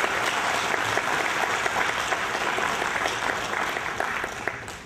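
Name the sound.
audience applause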